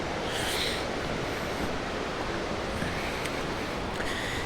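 A river rushes through intense rapids, a steady broadband roar of churning whitewater close by, with no talking.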